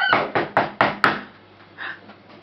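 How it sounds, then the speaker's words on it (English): Knocking on a cottage door in a Little Red Riding Hood puppet show: five sharp, evenly spaced raps, loud and close, followed by fainter thuds and room sound. "He knocked on the door."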